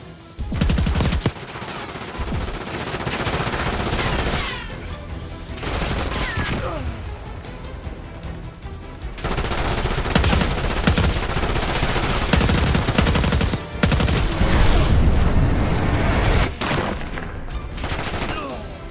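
Call of Duty Black Ops 6 combat: heavy, sustained automatic gunfire rattling almost nonstop, with a few brief lulls between long dense volleys.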